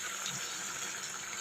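Water poured into vegetables cooking in a pot in a provincial kitchen gives a soft, continuous hissing splash, faint and steady, with no talking over it.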